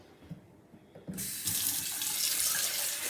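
A kitchen tap switches on about a second in and then runs steadily, a loud, close rush of fresh water pouring out while a homemade Molfetta-style calzone is being prepared.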